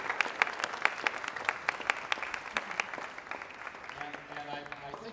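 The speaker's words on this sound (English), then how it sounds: "Please give them a great big round of applause." Applause from an open-house audience for two sign language interpreters, a steady patter of many hands at moderate distance that thins and fades toward the end, with faint voices underneath.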